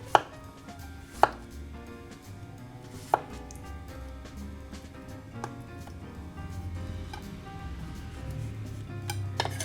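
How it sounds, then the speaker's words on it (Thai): Knife slicing straw mushrooms on a cutting board while making Japanese mushroom curry, with a few sharp chopping knocks at the start, then quieter intermittent cuts over low kitchen background noise. "เห็ดฟางสไลด์เท่าเห็ดหอมครับ"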